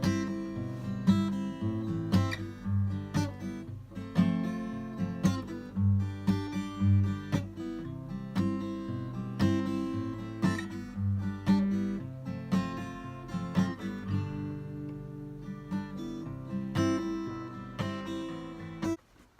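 Acoustic guitar picking the intro riff of a song, a steady run of plucked notes and strummed chords repeating in a rhythmic pattern, close and clear with no talking.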